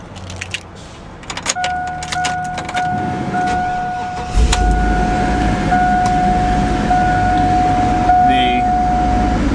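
A car engine starts after key jangles and clicks, with a steady warning chime tone, then settles into a low, loud continuous idle close by.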